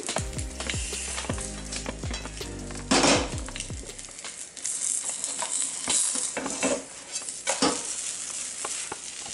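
An omelette with peas frying in a pan, sizzling steadily while a utensil stirs and scrapes the pan, with clinks and knocks against the metal standing out over the frying.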